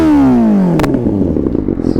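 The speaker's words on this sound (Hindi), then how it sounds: "तो भाई फुल सिस्टम एरो का एग्जॉस्ट लगा है तो साउंड तो बेहतरीन होगी ही।" 2024 Kawasaki Ninja ZX-6R fitted with a full-system Arrow exhaust, engine note sweeping down as revs fall after a blip, then settling into a rough, loud burbling idle close by.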